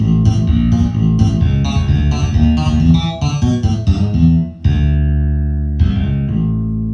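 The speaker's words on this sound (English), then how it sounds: "this is a regular finger bass" A regular finger bass patch with heavy reverb is played on a Roland G-70 arranger keyboard: a run of plucked bass notes, then a pause and a few sustained notes ringing out, loud and alone.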